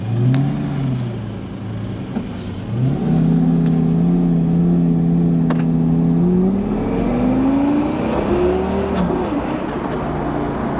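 A Lamborghini Gallardo engine accelerating on a drive, loud and close from inside the car, its deep growl rising in pitch through several gear changes with a steady drone between them and no talking.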